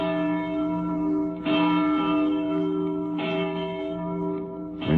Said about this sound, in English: We made this record of a church bell ringing in Boston just a few days back.